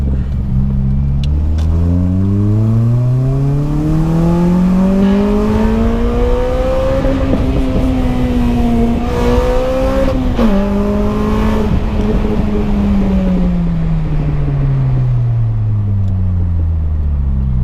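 A Honda Civic EP3 Type R with a Powerflow aftermarket exhaust revs up and back down in a long, rising and falling roar, loud and close outdoors, with a deep, throaty exhaust note.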